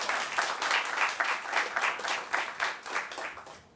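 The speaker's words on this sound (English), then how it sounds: "Give him a round of applause." Audience applause for a drummer at a live classic jazz and bossa nova performance: a dense, even wash of clapping that stays close and steady, then tapers slightly at the end.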